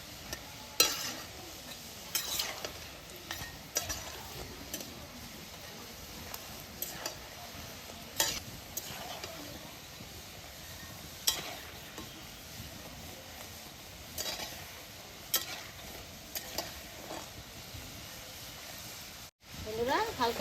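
Pieces of atta khurma dough fry in hot oil with a steady, soft sizzle. Stirring gives faint scrapes and ticks that recur throughout, and occasional speech sits in the background.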